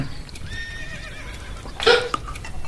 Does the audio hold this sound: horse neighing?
yes